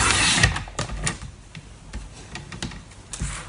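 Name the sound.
cutting Night of Navy cardstock down to size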